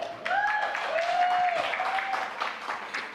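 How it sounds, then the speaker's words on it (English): Audience applause at an awards ceremony, a spread of hand claps with a held tone and voices running over it, fairly steady and moderately loud. "I appreciate the slow clap"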